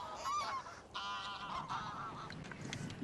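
Geese honk repeatedly in overlapping calls at a hunting hide in the Somme, some near and loud, others answering farther off, over a steady outdoor background hiss.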